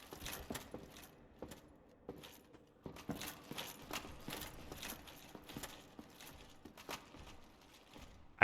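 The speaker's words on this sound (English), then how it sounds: "I'm hearing footsteps." Irregular soft footsteps in a video game, with scattered light taps and clicks, moving around at a low level with no talking.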